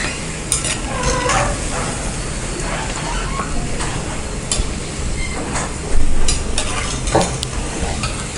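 Vegetable pakoras fry in hot oil over a high flame, a loud, dense bubbling sizzle with occasional clinks and stirring scrapes, heard up close without speech.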